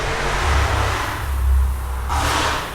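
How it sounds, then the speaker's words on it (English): A loud car drives along a nearby road with a deep, rumbling exhaust. It swells as it passes, then trails off, with a brief brighter surge near the end. "going up and down the road with a loud car"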